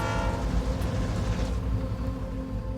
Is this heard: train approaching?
yes